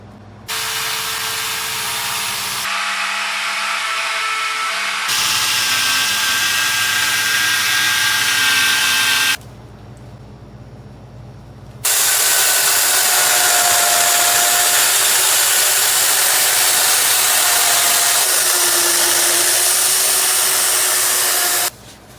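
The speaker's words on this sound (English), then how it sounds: "This is my handy dandy circle cutter." A circle cutter carves into a large block of ice with a loud, harsh continuous whine and spray of grinding, stopping and starting in long bursts with short quieter gaps.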